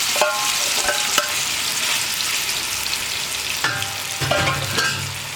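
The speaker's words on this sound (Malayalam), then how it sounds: "ഇനി നന്നായിട്ടൊന്ന് ഇളക്കി വരട്ടിയെടുക്കുക." Mashed plantain being stirred in ghee in a hot uruli, a loud continuous sizzle with periodic scraping strokes of the spoon against the vessel, close up.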